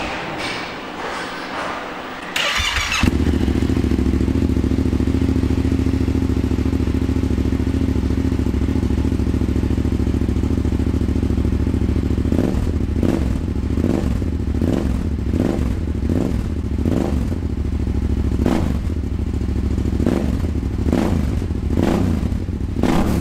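A quad bike with a modified aftermarket exhaust fires up and idles with a loud, throaty exhaust rumble, then revs in a series of rhythmic throttle blips.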